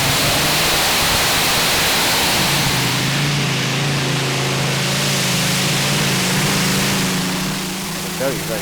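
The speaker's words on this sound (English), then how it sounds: "And then it's Snoopy from England with not 1 but 2 Rolls-Royce Griffin engines." Snoopy, an English pulling tractor fitted with two Rolls-Royce Griffin engines, thunders down the track at a tractor pulling finals in Brande, Denmark, a loud steady roar with droning harmonics throughout, with a commentator talking over it.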